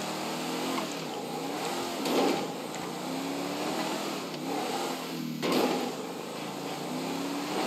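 An Indian car in the video game GTA 5 drives up a speed bump road, its engine giving a steady, droning hum that rises and falls slightly over several seconds, with no talking.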